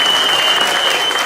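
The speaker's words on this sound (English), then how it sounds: "give her a round of applause, man" An audience at a comedy stand-up show bursts into applause, a dense, loud wash of clapping that fills the whole short moment.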